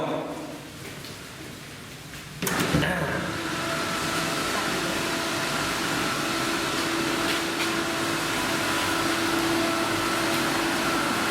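A swimming pool filter pump starting up with a sudden thump, then settling into a steady, loud mechanical hum and whir with a faint tonal drone that runs unchanged to the end.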